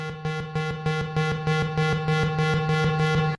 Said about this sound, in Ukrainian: Сигнал радіаційної небезпеки.